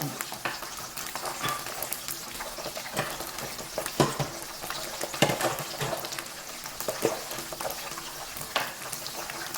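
Fish sizzles and crackles steadily as it fries in hot oil, with sharp pops and spatters throughout, close up and fairly loud.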